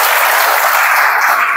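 Church congregation clapping together in loud, sustained, even applause that fills the room, close and continuous.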